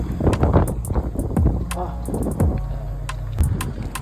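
Cold winter wind buffets a microphone outdoors in Canada, a steady low rumble with gusts under a person's talk while walking.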